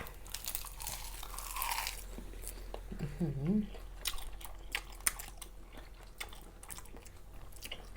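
Close crunchy chewing and biting while eating pickled quail egg yolks cured in fish sauce, a few crisp bites amid softer mouth sounds, with voices speaking quietly around them.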